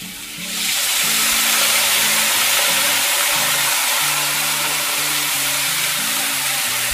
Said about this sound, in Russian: и доливаем горячей воды.